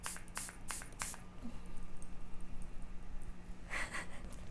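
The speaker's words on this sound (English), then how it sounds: "So now I can just spritz my skin down" Several short, hissy bursts of a spray bottle misting a face repeat early on, with another cluster near the end, over a steady low background hum.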